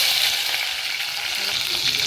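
Dried red chilies fry in hot oil with a dense, crackling sizzle, continuous and close, with no voices.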